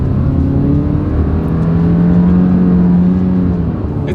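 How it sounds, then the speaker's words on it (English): A 2025 Subaru Forester's engine revs hard from a standstill and climbs steadily in pitch as it accelerates, loud and close, with a sustained rising drone throughout. "let's see how quickly we can get this one here up to speed"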